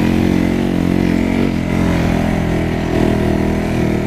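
A motorcycle ridden and leaned over across a pristine meadow, its engine droning loud and close throughout with a steady buzzing tone and slight rises in revs.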